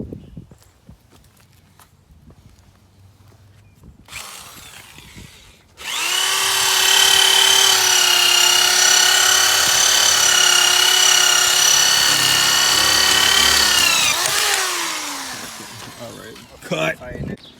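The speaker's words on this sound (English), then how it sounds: "he's polishing up the wheels right now" A power tool polishes car wheels, starting after a quiet stretch with a few small handling noises, then a loud steady whining drone that runs for several seconds close by before winding down.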